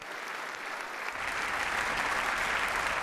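A standing ovation for Zelensky in the German Bundestag, with a packed chamber applauding loudly and continuously, the clapping thickening and growing fuller partway through.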